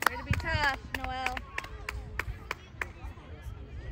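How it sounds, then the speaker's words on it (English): Spectators at a youth ball game clap in sharp, separate bursts of a few quick claps, and people shout and cheer in the stands. "We're cheering on Noel, who was fouled."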